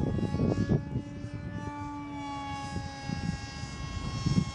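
A YF-23 Black Widow RC model jet flies at full throttle, a steady high whining engine tone holding throughout with a rushing airflow rumble beneath it.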